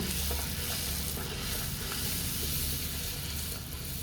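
Puris fry in hot oil, giving a steady, loud, continuous sizzle and crackle that runs throughout.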